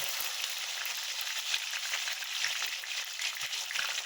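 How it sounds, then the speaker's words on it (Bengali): Chopped onion fries in hot oil spiced with garam masala, a continuous close, bright crackling sizzle that stays even throughout with faint stirring underneath and no talk. "পেঁয়াজটা একটু ভাজা ভাজা হয়ে যায়।"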